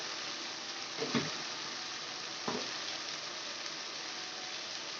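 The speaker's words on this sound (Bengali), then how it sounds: "আমি নুন হলুদটাকে তেলের মধ্যে মেশাচ্ছি" Salt and turmeric sautéing in oil for katla fish curry, a dense, even sizzle throughout with a couple of brief stirring scrapes.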